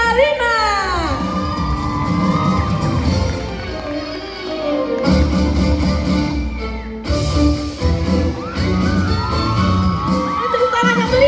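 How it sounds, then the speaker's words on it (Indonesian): Students at a final of the SMAN 1 Kota Serang ambassador selection cheer, whoop and shout continuously in a packed school hall, loud and close, with the crowd noise rising and falling throughout. "Beri tepuk tangan sekali lagi."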